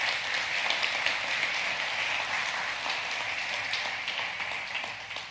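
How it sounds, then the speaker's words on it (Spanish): Church congregation at Ekklesia Miami clapping together, a sustained moderate round of applause in a large room that slowly fades toward the end. "Oye, yo creo que Dios se merece un aplauso después de eso."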